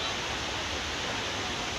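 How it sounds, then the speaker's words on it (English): Kpatawee waterfall in Bong County, Liberia, flowing as a steady, dense roar of rushing water, broadband and unchanging, with no other sounds over it. "This is a great kpatawee waterfall in Bon County."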